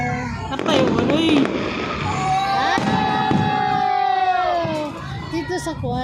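Fireworks set to music burst overhead: sharp bangs and crackles mixed with long rising and falling whistles, loud and near, while a crowd cheers and people talk excitedly throughout.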